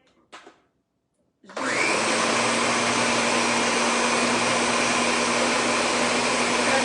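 A blender making salsa roars to life after a short quiet pause, running loud and steady with a constant high whine and a low hum.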